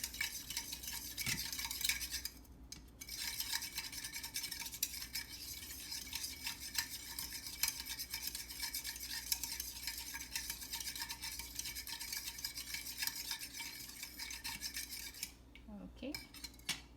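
Sugar being stirred until dissolved while making pandesal dough: a steady, continuous grainy scraping and swishing of a utensil in a bowl, fairly faint, with brief pauses near the start and the end.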